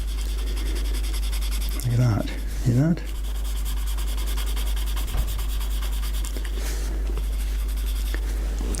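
A pencil shading on paper during a live anime face drawing, a continuous close dry scratching and rubbing with a few brisk strokes, while someone talks briefly over it.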